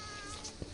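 A cat meows in the South Park video game, a short high meow at the end of a brief stretch over steady game background sound.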